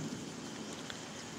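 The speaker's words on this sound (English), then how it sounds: "It's a little bit of rain, there's a little bit of lightning still." Light rain falls steadily after a storm with lightning still around, a soft continuous hiss of drops outdoors, fairly faint and even throughout with no talking.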